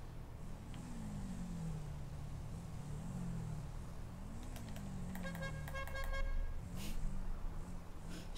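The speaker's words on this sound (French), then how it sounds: "Je klaxonne." Car horn honking in a motorbike parkour video game: a few short, faint toots rise over a low engine hum, near the end of the clip.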